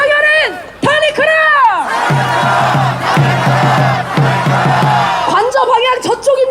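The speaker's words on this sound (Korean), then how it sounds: "구호를 크게 외쳐보겠습니다" A loud protest march crowd in Korea shouts in rhythm, chanting a repeated impeachment slogan in unison after a leader's calls, with whoops and cheers rising at the end.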